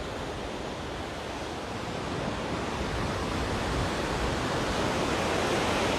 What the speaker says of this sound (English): I'm here in Tel Aviv Beach.